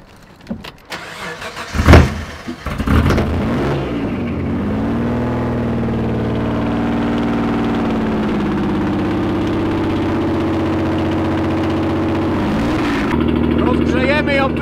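Mitsubishi 3000GT VR-4 engine starting with a few sputters, then settling into a steady, even idle close by that runs on at constant loudness, with a slight lift near the end.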